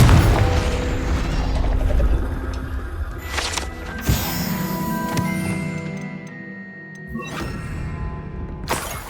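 A Confringo fire curse explodes in Hogwarts Legacy, a loud booming blast with sharp crackling debris, followed by a second burst later amid game ambience and music.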